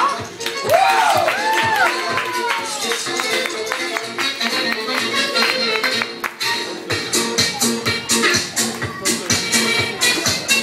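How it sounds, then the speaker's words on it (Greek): A crowd claps and cheers amid chatter and a squeaky toy-like whistle at a children's playground, the clapping growing into rhythmic, steady applause toward the end. "και πάρε χειροκρότημα"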